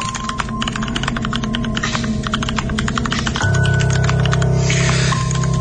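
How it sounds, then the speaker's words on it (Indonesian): Rapid typing on a computer keyboard, a dense stream of sharp close clicks with a steady hum underneath that deepens partway through, loud and with no voices. "Sambil lanjut fokus mengetik laporan itu."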